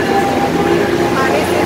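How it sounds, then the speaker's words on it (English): A train passes with a steady, loud rumbling roar and constant mechanical drone that fills the whole short stretch. "he still love chasing the train"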